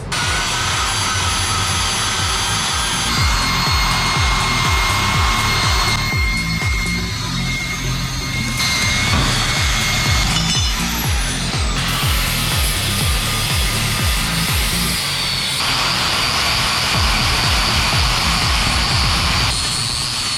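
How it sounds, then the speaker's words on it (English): Power grinder working powder-coat paint off a steel trailer receiver blank, a loud, continuous abrasive whine with high screeching tones that shift as pressure changes, in bursts separated by brief pitch changes. "grind some of the paint off the receiver blank"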